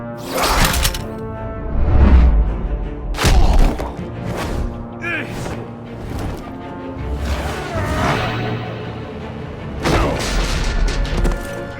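Gunfire and heavy impacts in the Batman Telltale Series game, loud booms and thuds scattered through a tense cinematic score, with whooshes and voices speaking between the hits.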